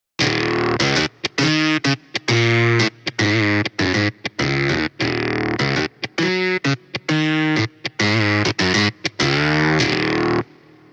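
A heavily distorted, saturated synth guitar lead built in Serum plays a choppy melodic phrase of short and sustained notes with gaps between them, loud and buzzy with no voices.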